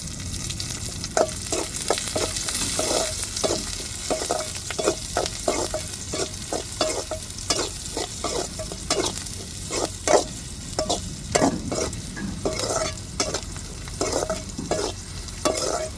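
Curry leaves fry in oil with onions in a pan, a steady close sizzle broken by rapid, regular scraping strokes of a spoon, continuing throughout without talk.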